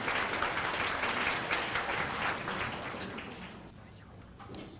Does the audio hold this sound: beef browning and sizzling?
no